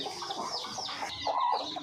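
Farm chickens cluck close by in a short, faint burst, with a few soft overlapping calls.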